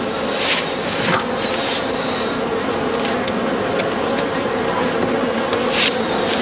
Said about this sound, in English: the condition of the colony and the richness of the honey flow where the hive comes from